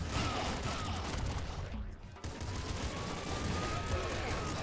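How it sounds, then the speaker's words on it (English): An auto shotgun fires in the video game Nuclear Throne, giving dense, rapid blasts that run almost without a break at a loud, steady level, with only a short dip partway through. "Auto shotgun's doing some good stuff."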